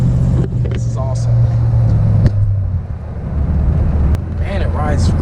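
A 1932 Ford hot rod cruises along with a low, steady engine rumble and road noise, while people talk over it close by.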